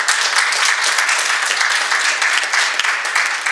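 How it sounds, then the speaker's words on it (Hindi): An audience at an Indian poetry festival claps loudly and steadily for a poet, a full, continuous wash of applause filling the room. "एक बार ज़ोरदार तालियां हो जाए"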